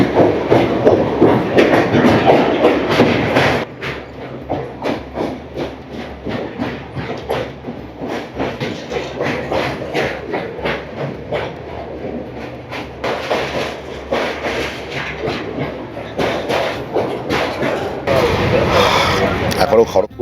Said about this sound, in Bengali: ট্রেন প্রায় তার সর্বোচ্চ গতিবেগে যাচ্ছে